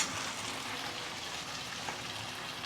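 Fish frying in a pan just after its first flip, a steady close hiss and crackle of oil that holds at an even level throughout.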